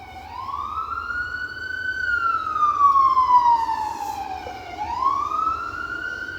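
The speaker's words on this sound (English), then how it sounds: "Oh, ambulance. Hold on, because it's going to get loud" An ambulance siren wails past a front porch, its rising and falling tone sweeping loud and close before dipping and starting another cycle, with faint road traffic underneath.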